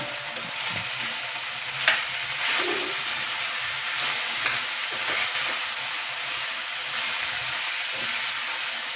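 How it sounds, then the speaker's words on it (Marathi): Turmeric and asafoetida sizzle steadily in hot oil in a kadhai for a cabbage curry, a continuous close frying hiss with faint stirring scrapes and no voices. "त्याच्यामध्ये मी हळद घालत आहे एक चमचा नंतर हिंग घालत आहे एक चमचा चांगलं एक जीव परतून घेतो तेलामध्ये"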